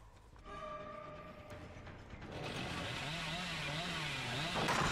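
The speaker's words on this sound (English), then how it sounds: "I end up pulling my chainsaws too much." Billy's chainsaw in Dead by Daylight revs up from a low hum into a loud, wavering mechanical buzz that builds steadily and stays close.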